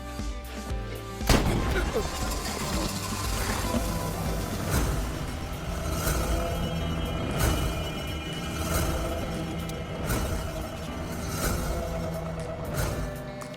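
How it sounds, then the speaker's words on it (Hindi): Repeated sharp gunshots fired into the air ring out amid a noisy, crowded scene, with people talking loudly throughout. "ऐसे ही हवा में गोली चलाई"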